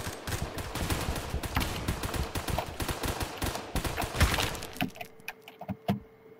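Machine gun fire in the Roblox shooter Phantom Forces: a dense run of rapid, loud gunshot bursts that thins into a few scattered, sharper cracks before trailing off, with no talking over it.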